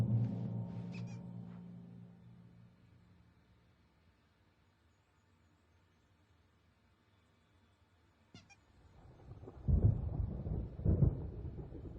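Thunder from an approaching storm in Alan Wake Remastered: a low rolling rumble fading out, then a sharp crack and renewed heavy rumbling near the end, with no talk.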